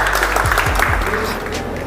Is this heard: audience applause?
yes